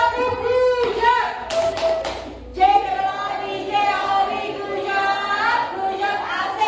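A group, likely a classroom, chants a rhythmic 'tepuk hujung' clapping routine, with a few sharp, quick hand claps punctuating the chant and voices singing and talking throughout.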